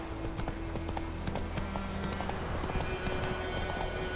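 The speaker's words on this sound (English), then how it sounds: "Whoa there, Roach" A horse's hooves clip-clop steadily at a walking pace in The Witcher 3 video game, with close, even hoofbeats running throughout and faint background sound.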